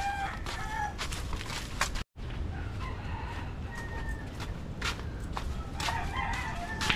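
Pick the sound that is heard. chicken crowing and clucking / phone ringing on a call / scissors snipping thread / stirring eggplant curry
chicken crowing and clucking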